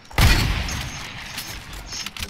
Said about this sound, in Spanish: Le están disparando.